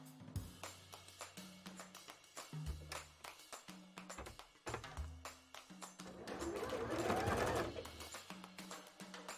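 A sewing machine zigzag-stitches around the band of a handmade bra in short bursts of quick mechanical whirring, separated by pauses and small handling noises, with a louder rustling patch near the end.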